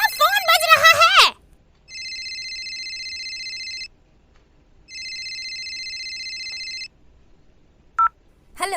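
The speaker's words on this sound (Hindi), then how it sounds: "तुम्हारा फोन बज रहा है।" Two long electronic telephone rings sound alone in a quiet room, separated by a pause, after a woman's brief speech at the start; a short chirp and another voice follow near the end.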